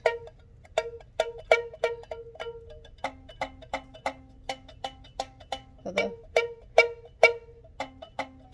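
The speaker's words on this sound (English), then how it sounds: "So when you pull the rubber band, it makes different sounds." Rubber bands stretched over a soup can homemade guitar are plucked one after another, close and clear, a steady run of sharp twangs with short decays at two alternating pitches.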